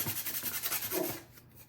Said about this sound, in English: I took some sandpaper and just did the edges, a little bit